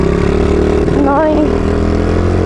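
An MRF 80cc motorcycle climbs uphill, its engine holding a steady, loud drone throughout with a brief rising whine partway through.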